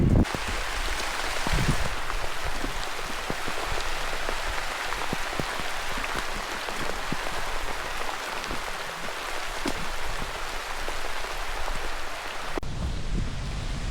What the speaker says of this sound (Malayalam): ചിരപുഞ്ചി മഴയത്ത്